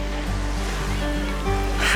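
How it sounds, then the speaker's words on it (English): Sea waves washing in on the shore at Barafundle Bay on the South Wales coast, a loud steady roar of surf with wind, close and continuous, the swell building toward the end. "And I think the sea's coming in as well."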